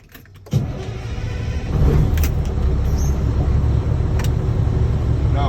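A truck's engine starts with a sudden burst, then settles into a loud, steady diesel idle that swells slightly and keeps running throughout.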